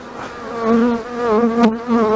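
Honey bees buzzing loudly and close at an open beehive during plastic-foundation frame work, a steady droning hum with shifting pitch and no talk.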